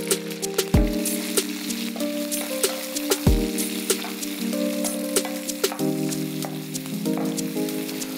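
Chopped onions sizzle in a pan over a slow flame while cashew paneer masala is cooked, giving a steady crackling fry with scattered pops beneath a sustained tonal hum that shifts pitch now and then.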